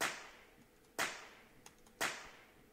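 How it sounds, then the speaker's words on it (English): A whip cracks three times at evenly spaced one-second intervals, each a sharp, bright snap that fades quickly, used as a layer in a laser gun sound design; no voices. "I found that the sound of a whip cracking sounds kind of cool."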